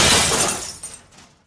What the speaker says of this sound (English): Unaware of his own strength, the glass shattered, forming a shattered pile on the ground.